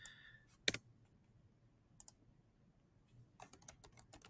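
Keys on a computer keyboard clatter in a quick burst, fall quiet, give a brief double tap, then break into a longer run of rapid, close typing near the end.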